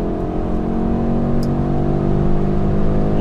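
A 2022 Audi RS3 Sportback accelerates hard on an unrestricted autobahn, a loud continuous engine roar with steady rising drive and road noise, heard from inside the car.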